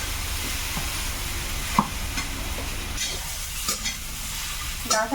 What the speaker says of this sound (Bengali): আর আলুটা ভাজা হয়ে গেছে